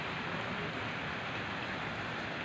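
Heavy rain pours down outdoors near an apartment building on an evening when the weather turned suddenly. The hiss is dense and steady, broadband and unbroken for the whole stretch, with no voices.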